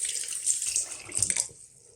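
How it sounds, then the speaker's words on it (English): A tap runs cold and warm water into a sink, a steady close hiss of flowing water that thins and fades out near the end. "now I am just adding some more cold and warm water."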